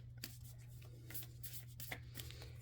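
Tarot cards are shuffled by hand in a quiet room, giving soft, brief riffling swishes and taps at an uneven pace over a low steady hum, faint and close.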